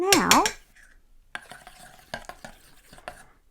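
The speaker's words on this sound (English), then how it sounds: "Okay, and a pinch of nutmeg. Give it a stir." A spoon stirs a spiced drink with cinnamon and a pinch of nutmeg, making light scraping clinks against the container after a brief voice at the start.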